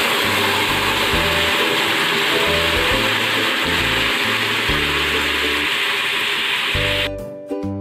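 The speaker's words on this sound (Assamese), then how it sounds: "এতিয়া মই জোলখিনি ইয়াতে ঢালি দিম" Fish curry broth with bottle gourd pours into a hot pan, a steady hiss and sizzle over a low, pulsing stove rumble, the sound cutting off sharply near the end.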